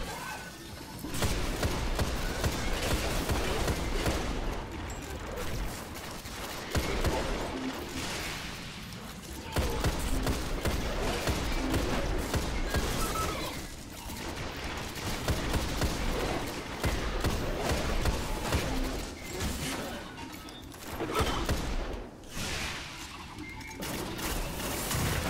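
Dense bursts of gunfire from a firefight in the Destiny video game clatter almost continuously, with thuds and short crashes that rise and fall in waves over the whole stretch, occasionally under faint talk.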